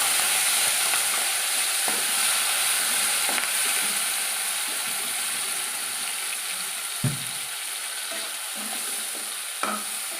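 Tomato chutney cooking in oil, a constant bright hiss of frying with occasional soft stirring knocks and scrapes, no talk.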